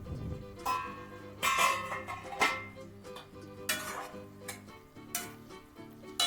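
A pan lid comes off a pan of hot, sweet and sour pickle with coriander leaves, giving several metallic clatters and clinks of lid and utensil, fairly quiet, with a faint low hiss beneath.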